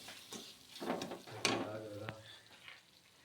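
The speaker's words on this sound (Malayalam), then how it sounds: "നന്നായിട്ട് ഇളക്കി കൊടുക്കാം." A spoon stirs gooseberry pickle with vinegar in a pan, giving soft scraping and clinking strokes with a faint sizzle, one sharper knock near the middle, against a quiet kitchen background.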